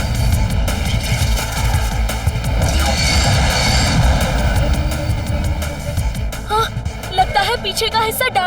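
Droning airplane engine in a Hindi cartoon, a plane surrounded by two fighter jets, a steady throbbing hum that sits loud and continuous, ending with some choppier sound effects.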